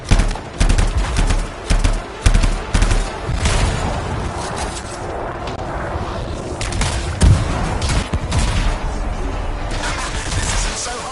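Sci-fi gunfire in the Anthem video game on hard difficulty: repeated loud bursts of shots and booming impacts, dense at first, then easing into a rumbling battle bed with more sporadic shots.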